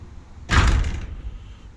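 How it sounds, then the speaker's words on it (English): An actuator-driven chicken coop door closes with one dull, solid thud followed by a short rattle that fades over about half a second, heard close and alone against faint background noise. "with that closed, the chicken door closed."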